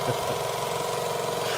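A restored Sears Kenmore sewing machine runs steadily and close, a continuous even mechanical hum and whir with a faint rhythmic ticking, alone without talk.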